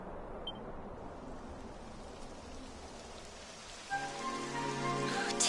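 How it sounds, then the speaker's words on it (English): Rain starting to fall in the video game Dragon Quest 11: a soft, steady hiss of rainfall that continues throughout, with tonal music swelling in near the end. "It would have to go and start raining, wouldn't it?"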